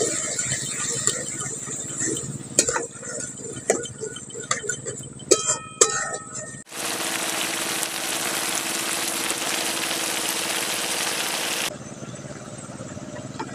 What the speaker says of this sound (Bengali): দইটা দিয়ে ভালো করে আবার মিশিয়ে নিচ্ছি।